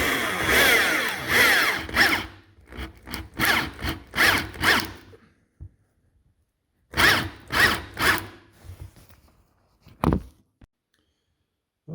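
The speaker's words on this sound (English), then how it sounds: "then I'll flip the board over and drill from the other side" Power drill boring into a wooden desk board, bursts of whirring in short pulses, several rapid triggers, a pause, then more spurts, close and fairly loud.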